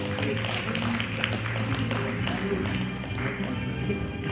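Steady applause from an audience at a research symposium, dense and continuous throughout with crisp claps over a hall murmur and background music.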